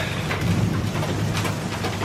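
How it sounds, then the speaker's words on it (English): Rain falls steadily outdoors in a backyard, a dense, even hiss of drops with no letup throughout. "What we need is this rain."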